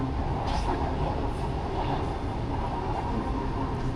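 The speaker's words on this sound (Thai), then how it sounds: "รถไฟฟ้าไปแล้วทุกคน" An electric train rumbles steadily nearby with a broad, continuous roar and faint rhythmic clatter, no voices over it, at Benjakitti Park in Bangkok during the Bangkok Illumination light festival.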